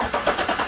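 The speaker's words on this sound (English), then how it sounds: "I'm just going to crank it for a few seconds to prime the oil system" A 2014 GM truck's 5.3 engine cranks over on the starter, switched through a starter relay, in a brief, steady, moderately loud burst of mechanical churning.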